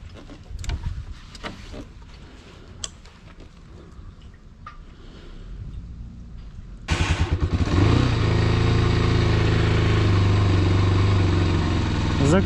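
A moped engine is kicked over and catches after scattered clunks and handling noises, then settles into a loud, steady buzzing idle with a strong low hum that runs to the end.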